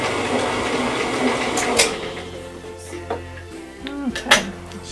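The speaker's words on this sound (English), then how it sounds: "If you're using a power mixer to mix this with, a hand mixer or a stand mixer, you do want to start it out on low" An electric hand or stand mixer beats buttercream frosting of confectioner's sugar in a bowl, giving a steady close motor whir with shifting tones and a few brief knocks toward the end.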